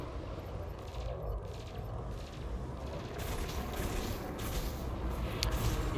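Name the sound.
frag cannons and plasma cannons firing in Elite Dangerous video game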